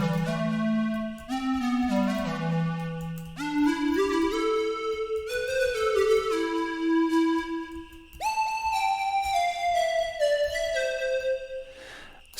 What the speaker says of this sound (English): So today I'll be showing you how I made this nice flute sound in Helm.